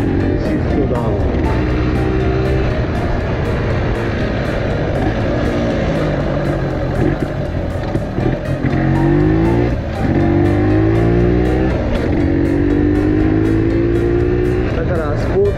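A Showa-era two-stroke off-road motorcycle engine runs loudly while the rider downshifts, its buzzing note repeatedly dropping and climbing in pitch as gears change, with someone talking over the engine noise.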